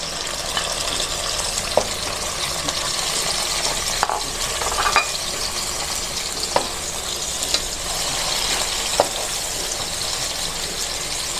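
Shrimp sizzling in a hot pan with garlic as it is sautéed in the making of bottle gourd with shrimp and rice noodles, giving a steady loud fry hiss broken by scattered stirring clinks and scrapes.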